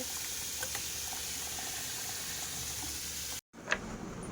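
Potatoes boil in a pot with a steady, close bubbling and rolling simmer. The sound drops out for a split second, then resumes with a small splash.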